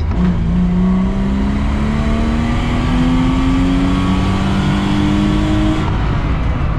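A low-cost BMW E36 325i drift car accelerates hard. Its engine note climbs steadily in pitch for about seven seconds, loud and close, with no break in the roar.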